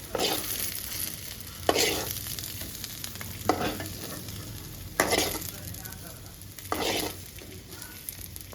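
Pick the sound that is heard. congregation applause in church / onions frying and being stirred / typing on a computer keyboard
onions frying and being stirred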